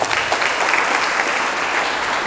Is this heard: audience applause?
yes